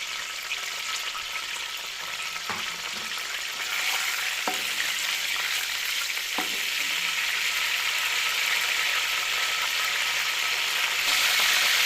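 Whole spices frying in ghee in a pot for degi-style beef pulao, a steady close sizzle that builds gradually, with a few sharp clinks of a stirring spoon and no talking.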